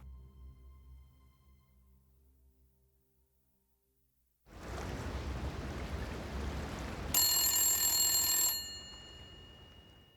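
A telephone rings loudly and close after a stretch of near silence, its bright bell tone sounding in a burst over steady background noise.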